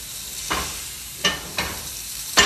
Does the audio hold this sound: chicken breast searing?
yes